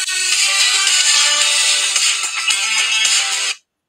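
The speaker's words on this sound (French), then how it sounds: "J'ai oublié de couper ma sonnerie avant le début de l'émission" A phone ringtone goes off during a live French-language flag football broadcast, a loud bright melodic ring that plays continuously for about three and a half seconds and then cuts off abruptly into silence, with no talking over it.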